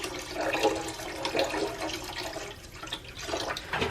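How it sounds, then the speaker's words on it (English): About a cup of vinegar is poured into the back of a toilet tank, a faint, uneven watery splashing and trickling that continues for several seconds with no talking. "I'm gonna go ahead and pour about a cup of this vinegar into the back of my tank."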